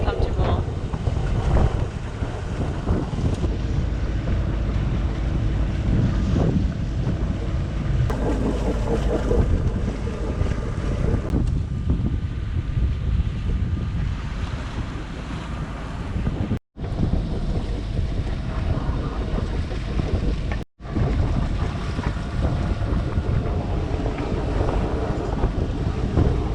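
A sailboat running straight downwind, steady loud rush of wind buffeting the microphone over water and wave noise, continuous with two brief dropouts near the end.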